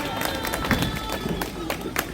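A crowd at an outdoor election protest rally claps in a quick burst of applause, dense and close, with some voices mixed in.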